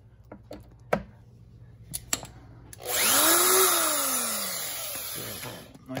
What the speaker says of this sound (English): Show you guys real quick with this drill here.